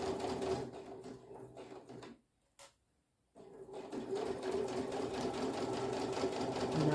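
A sewing machine stitches a small fabric bookmark in steady, close whirring runs, pausing briefly for about a second before resuming at a continuous pace.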